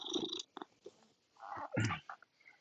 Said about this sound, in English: She's the loud purring cat.